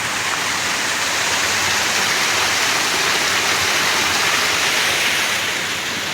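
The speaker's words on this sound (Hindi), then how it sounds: "ये पानी का शोर।" The Neelum River's rushing water roars steadily and loudly in Azad Kashmir, a dense continuous hiss like a fast river heard up close.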